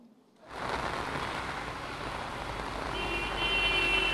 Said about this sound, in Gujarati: છેલ્લા 15-20 મિનિટથી ધોધમાર વરસાદ વરસી રહ્યો છે.